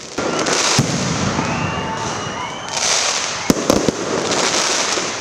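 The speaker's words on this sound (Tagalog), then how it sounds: "salubungin ang imahe ng nasa mahigit 10 minutong fireworks display" A fireworks display of more than ten minutes greeting a religious image at a basilica in Lipa, heard as a steady crackling roar of bursts with a few sharp, louder pops near the end, under crowd noise.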